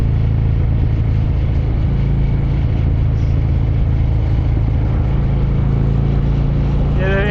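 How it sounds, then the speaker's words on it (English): A Harley-Davidson motorcycle engine with a loose air filter runs loud and close in a steady, unbroken drone, while clear backfire pops are not evident. "Maybe it's backfiring a little bit more, but it seems to be running alright."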